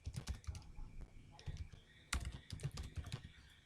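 Keys clatter on a computer keyboard as an email address is entered on a login page, a steady run of quick close clicks with one sharper tap midway.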